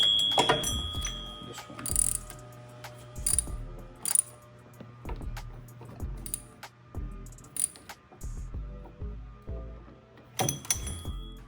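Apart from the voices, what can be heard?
ratchet tightening bolts on a Honda Accord power steering pump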